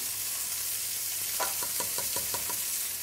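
Ginger sizzles with wilted onions in a pan for spicy mixed vegetable bhaji, a loud continuous frying hiss broken midway by a quick run of spatula scrapes.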